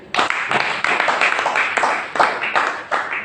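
A church congregation claps together in steady rhythmic bursts, loud and close, with crowd noise and voices mixed in.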